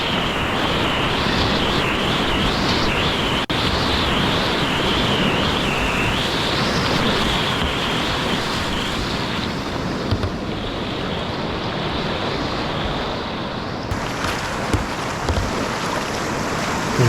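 Whitewater on the Lower Haw River spills over a small pour-over rapid in higher water, a loud continuous rushing roar with wind buffeting the microphone.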